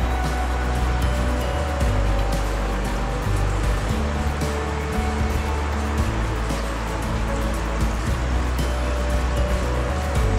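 Gulab jamun frying in hot oil or ghee, a steady dense sizzle and bubbling that continues evenly throughout, close and fairly loud with no voices.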